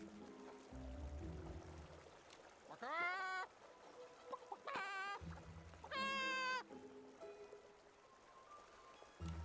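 A giant Barrison creature in the video game Infinity Nikki gives about three loud, rising, clucking and meowing calls. Steady background music plays under the calls.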